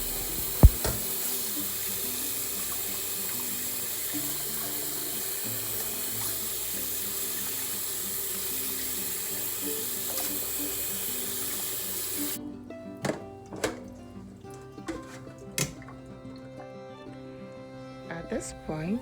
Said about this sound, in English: So I'm washing my goat meat and making sure that the water drains out of it very, very well